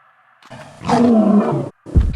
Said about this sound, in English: There's a bear down there.